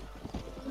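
Horse hooves clip-clopping in the video game Red Dead Redemption, a quick run of soft, muffled thuds heard under a low background rumble.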